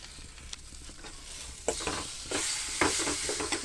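Tamarind tipped into a hot frying pan and stirred through, bringing a steady sizzle with scraping stir strokes that grow louder and busier partway through, close by with no talking.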